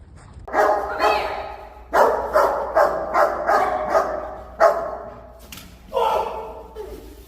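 A protection dog barks during knife attack training, giving a series of loud, sharp barks in uneven bursts with brief pauses between them.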